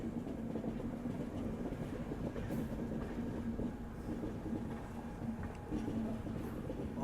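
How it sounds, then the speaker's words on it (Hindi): An ICF YUVA Express train pulls slowly out of the station, a steady near rumble of rolling wheels and carriages with faint rhythmic clacks over the rails, continuous throughout with no voices. "आराम से निकलती हुई हमारी ट्रेन।"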